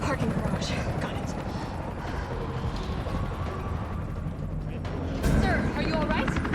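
A helicopter in the Resident Evil 3 video game whirs steadily under game noise and dialogue, with a louder impact-like burst near the end.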